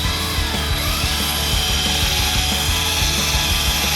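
A drill spinning a polishing pad on a car headlight of a Nissan 350Z while spreading headlight restoration product, a loud steady whir with a rattling, ratchet-like mechanical chatter close to the microphone.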